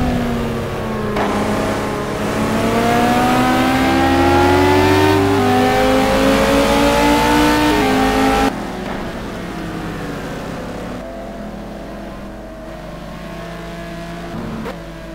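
Ferrari and Corvette GT race cars in a sim racing game at Roy Hesketh circuit, engines loud and close, revving up through rising gears before dropping abruptly to a lower, steadier drone after an upshift or camera change.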